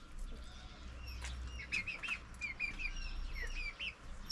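Chickens and several kinds of small birds call around a village, with repeated bright chirps and tweets over a low steady background and no talking.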